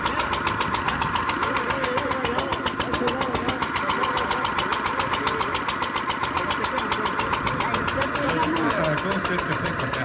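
Forano threshing mill driven by a stationary engine, threshing wheat sheaves; a steady, rapid mechanical chugging and knocking with a constant rhythm, loud and continuous, with someone speaking over it.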